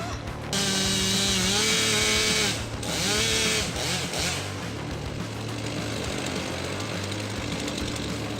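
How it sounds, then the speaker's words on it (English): A chainsaw's fast-spinning chain bites through the bark of a tree trunk and works deeper into solid wood, a loud, steady engine drone with brief dips in pitch as the chain loads up, running continuously. "The fast-spinning chain cuts through the bark first, then gradually moves deeper into the solid wood."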